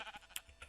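Sheep bleating in the Minecraft video game, a few short bleats in quick succession, fairly faint under light game background.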